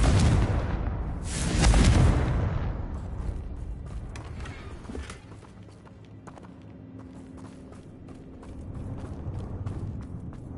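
Blasting-spell explosions in the video game Hogwarts Legacy, a loud burst near the start, then a run of sharp cracks and clatters over a busy game soundscape.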